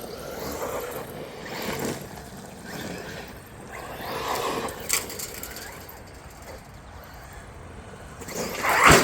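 An MJX Hyper Go 1/10 scale RC truck whines along and revs in bursts, with a few sharp thuds as it slams down, moderately distant with some talking now and then.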